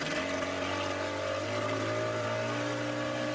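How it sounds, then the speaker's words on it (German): Fast motorboat travelling on the Kayan river in Borneo, its engine a steady droning hum with a continuous low tone and broad wash of water noise, loud and constant throughout with no voices. "Mit den schnellen Motorbooten ist das Reisen bequem geworden."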